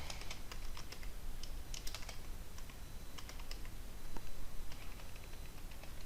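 Rapid, uneven key clicks from code being typed on a computer keyboard, close and steady throughout with a few louder taps, no voices.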